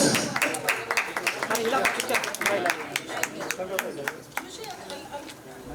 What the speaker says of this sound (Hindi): पहले तो पाजी के लिए तालियां